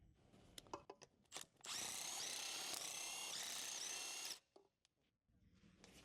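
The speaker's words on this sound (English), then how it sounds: "Using a 1/2 inch 18mm deep socket with extension on the impact, finish removing the lug nuts" Impact wrench with a 1/2 inch 18mm deep socket and extension spinning off the lug nuts on a 2007-2018 Jeep Wrangler, one sustained loud whirring burst of about three seconds, framed by clinks and handling of the socket.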